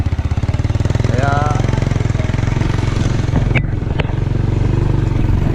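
A newly bought motorcycle engine runs steadily and close by, a loud continuous low throb with a few sharp knocks near the end.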